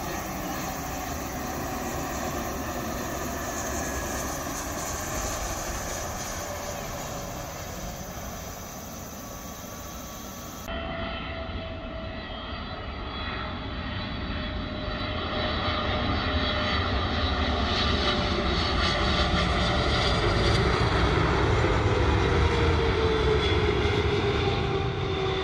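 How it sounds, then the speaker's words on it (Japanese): An airplane's engines roar continuously for a long stretch near Narita Airport, with the whine rising and swelling as the aircraft, taking off or landing, passes fairly close overhead. "離着陸する飛行機を間近に見ることができるんです。"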